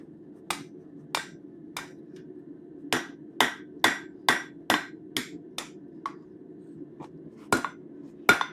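Metal being hammered on an anvil: about fourteen sharp, ringing strikes at an uneven pace over a low steady hum, close and clear, with no talking.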